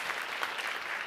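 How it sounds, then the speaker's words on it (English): An audience claps steadily at a cooking event, a dense, even wash of many hands without voices, moderately loud and unbroken for about a second. "Give him a round of applause."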